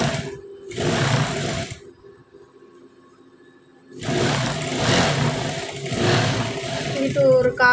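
Sewing machine stitching a blouse seam, two stretches of close whirring separated by a quiet gap of about two seconds, while someone talks over it in Tamil.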